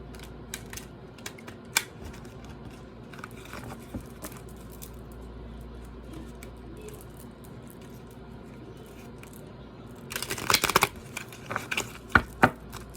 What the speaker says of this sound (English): I am going to shuffle the deck just 2 more times.